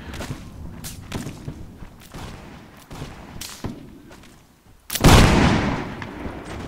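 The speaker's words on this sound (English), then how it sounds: "I got two more with that volley right there" A musket volley fired by an infantry line in Mount & Blade Warband, Napoleonic-era mod battle: scattered distant shots and thuds, then one loud close crack of massed muskets with a long rumbling tail.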